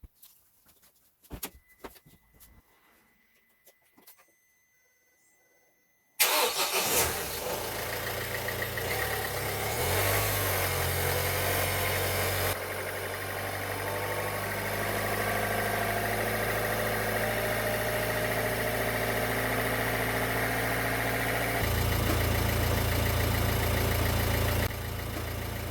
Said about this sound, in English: And now let's start the engine.